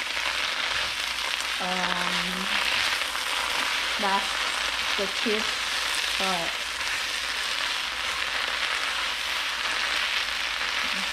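Water spinach stir-fried with garlic in a small amount of cooking oil gives off a steady, bright sizzle throughout, and a voice speaks briefly over the frying.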